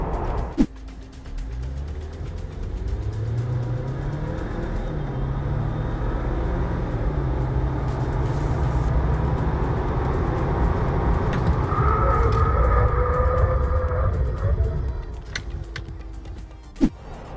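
A two-litre Jeep Wrangler with an eight-speed automatic accelerates hard in a dynamics test, its engine drone rising and swelling steadily for over ten seconds from inside the cabin, then easing off.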